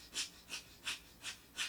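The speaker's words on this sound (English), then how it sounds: "So breath of fire is a short, shallow breath through the nose, and it's a little bit like a dog panting," Breath of fire from a Kundalini yoga set: five short, sharp nasal exhalations at a steady quick rhythm, close and fairly loud, like a soft panting through the nose, with no talking.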